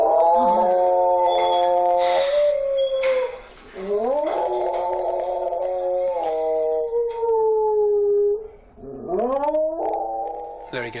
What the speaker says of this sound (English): He's got a hell of a voice on him, Bruno.